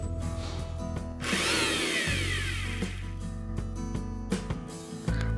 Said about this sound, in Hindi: तो एक ग्राइंडर जार लेंगे और सादे बिस्किट को इसमें क्रश करके डालेंगे। और इसे हम ग्राइंड कर देंगे।